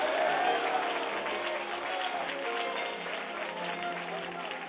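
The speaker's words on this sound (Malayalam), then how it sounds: "ഒന്ന് കൈയടിച്ച് ദൈവത്തെ സ്തുതിക്കാവോ?" A church congregation clapping in praise, a loud sustained burst of many hands near and full at first, then easing slightly while continuing.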